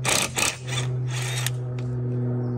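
A power tool whirs and zips in two quick bursts as a wheel nut comes off a Volkswagen Beetle 1.9 TDI, then a steady low mechanical hum continues close by.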